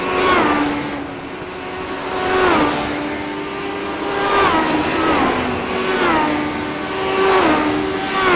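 A race car built to represent a 1934 Ford Coupe roars around the track mid-race, its engine rising and dropping in pitch in steady cycles of roughly two and a half seconds as it accelerates and shifts, loud and continuous with no talking.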